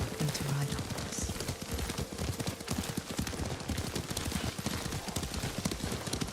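A horse gallops in the video game Ghost of Tsushima, its hooves clip-clopping in a fast, steady rhythm close by, with a brief low neigh near the start.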